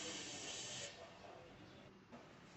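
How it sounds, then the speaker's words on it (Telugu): Chopped onion pieces fry under a lid in a covered pan, giving a steady broad hiss that is louder for the first second and then settles to a softer, continuous sizzle. "ఉల్లిపాయ ముక్కలు చక్కగా ఫ్రై అవ్వాలండి."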